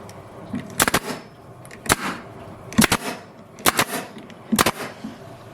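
Nail gun driving nails into wooden queen mating boxes for beekeeping, with five sharp, close pneumatic bangs spaced about a second apart, some doubled, over a low background hum.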